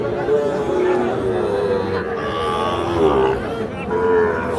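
A Sahiwal bull calf lows in long, drawn-out calls amid a noisy livestock-market crowd, with people talking and chattering close by throughout.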